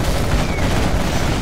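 Quad cannon fire in Command & Conquer Generals Zero Hour, Toxin challenge mission, heard as a dense, continuous rattle of loud rapid shots with booming impacts and no talk.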